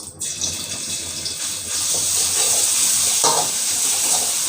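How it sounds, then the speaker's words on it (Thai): Shrimp paste mixed with pounded garlic, coriander root and pepper stir-fries in a hot pan with a steady, close hissing sizzle that swells louder partway through, with soft scraping of stirring and no voices. "แล้วก็ผัด ผัดให้สามเกลือหอมเลยนะคะ"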